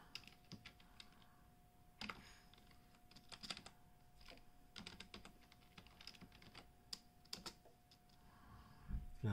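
A password is typed on a computer keyboard, with faint, close, irregular key clicks coming in short bursts over a quiet background.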